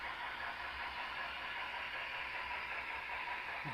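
A BLI Paragon 4 model train locomotive gives off a faint, steady hiss and low rumble, quiet and continuous with no talk.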